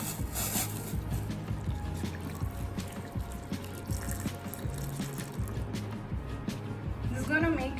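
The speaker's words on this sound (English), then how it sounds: "And now I'm going to add 1 cup of boiling water." Boiling water poured over pitted dates and baking soda for a sticky date pudding, a soft steady splash and trickle running under a person talking.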